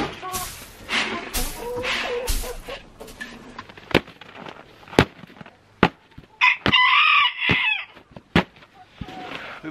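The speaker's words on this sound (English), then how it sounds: "been getting a lot of questions lately about our tiny bantam rooster, Moose, and why we named him Moose." A small bantam rooster crows in a few short, shrill bursts, mixed with sharp cracking snaps and some clucking nearby.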